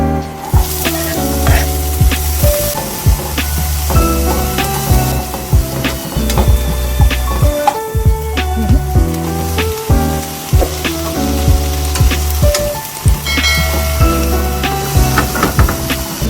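Garlic frying in a pan with onion and tomato added, giving a steady loud sizzle throughout with a few clinks and scrapes of utensils, no talking.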